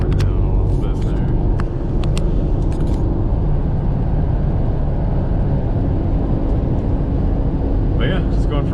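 A 1992 Mitsubishi Pajero with a 3.0 V6 gasoline engine cruises on the freeway, giving a steady, loud low-end drone and road rumble that fills the cabin with no break in level.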